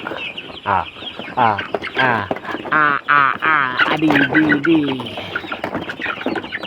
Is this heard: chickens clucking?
yes